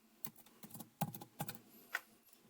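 Someone types numbers on a computer keyboard in a short, uneven burst of close, crisp key clicks, with a faint high whine in the background and no speech.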